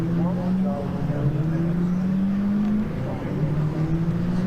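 Caterham race cars at Thruxton drone steadily as they head out onto the track, engine tones rising and falling across the clip beneath continuous commentary.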